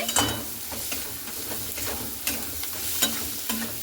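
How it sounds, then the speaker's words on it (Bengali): Taro stolons fry in a pan with salt, turmeric and chili powder, sizzling steadily while a utensil stirs and scrapes in occasional sharp knocks, close up with no talking. "লবণ, হলুদ আর লঙ্কার গুঁড়াটা দিয়ে হালকা করে নাড়াচাড়া করে নিচ্ছি"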